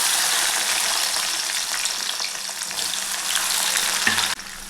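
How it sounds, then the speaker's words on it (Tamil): Small shallots hit hot oil alongside frying garlic for a garlic pepper kuzhambu, giving a dense, steady sizzle that crackles throughout before dropping off sharply near the end, with no talking. "பூண்டு இந்த அளவுக்கு எண்ணெயில் நல்லா பொரிஞ்சு வரணும். இப்போ சின்ன வெங்காயம் கட் பண்ணி வச்சுருக்கோங்க"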